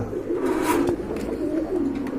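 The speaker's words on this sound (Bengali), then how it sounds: "এখানে কিন্তু আরেক জোড়া কবুতর টকটকে লাল গিয়ারের কবুতর" Pigeons, including a pair of deep red birds, coo repeatedly in low, rolling calls close by, clear and unbroken across the short stretch.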